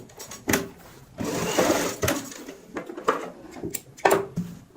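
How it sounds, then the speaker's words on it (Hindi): A sewing machine stitches fabric for a cushion cover, running in a close, steady whirring and clattering stretch with brief stops and restarts between passes. "आपने सफाई के साथ यहाँ पे इस तरीके से सिलाई लगानी होती है।"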